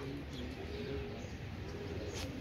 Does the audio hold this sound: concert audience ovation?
no